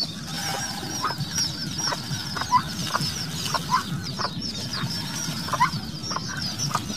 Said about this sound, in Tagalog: Ang pinapakain natin sa sisiw ng bibi at sisiw ng manok, itong bayuan.